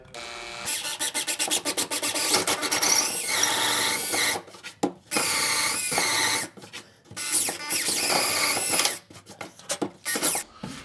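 A power drill drives a screw at an angle into a wooden stud, whirring in several loud bursts with brief pauses between them.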